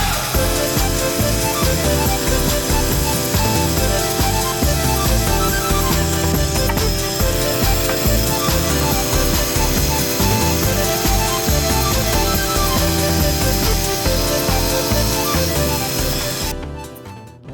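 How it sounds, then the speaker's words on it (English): A bandsaw cuts wood for cutting boards, a steady loud buzzing drone of the running blade with rhythmic shifts as the stock feeds through, continuing close and unbroken before cutting off at the very end. "Now that we have these cuts done on the bandsaw"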